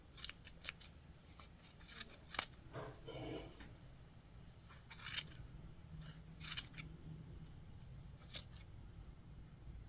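Scissors snip through yarn strands to trim a tiny crochet pompom for a keychain, giving a series of sharp, close, irregular cuts with short pauses between them and no talking.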